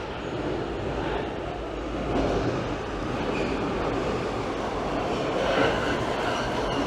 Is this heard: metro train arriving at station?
yes